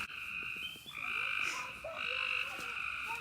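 Chorus of frogs croaking steadily at the edge of a pond at night, dense overlapping calls filling the scene, loud and close with layered pulsing tones throughout.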